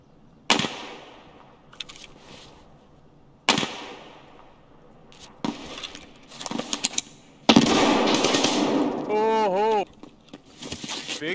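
Heavy gunshots in Escape from Tarkov, several sharp loud cracks spaced a few seconds apart, then a dense burst of firing, with voices talking over parts of it.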